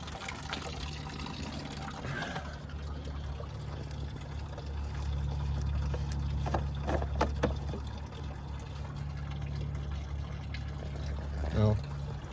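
Coolant draining from the cooling system of a Ford 6.0 diesel, a steady low watery trickle and gurgle running continuously under a constant engine-bay or shop hum, with faint talk in the background.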